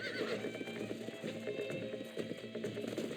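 A horse whinnies over the steady clip-clop of hooves, layered with dense background sound and music-like tones throughout.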